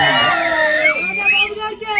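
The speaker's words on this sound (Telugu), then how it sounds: "ఈ అరుపులు, కేకలు" A large crowd at a gathering honoring Vangaveeti Mohana Ranga shouts and cheers loudly, with many overlapping voices rising and falling in an excited, continuous roar.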